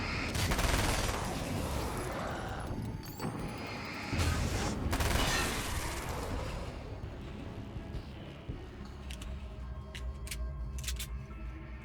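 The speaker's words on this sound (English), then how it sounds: "let's just switch to the little SMG" A small SMG firing rapid bursts in the video game Alan Wake's American Nightmare, dense crackling fire that packs the first half and then thins into scattered shots and clatter, loud and close over a game soundscape.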